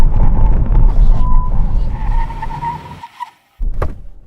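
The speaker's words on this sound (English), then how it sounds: "Brake test. From 60 miles an hour, a decent number is 35 meters." A Honda Super N brakes hard from 60 mph, the engine and road roar fading under a rising tire squeal as the car slows, then a brief silence and a short closing thump.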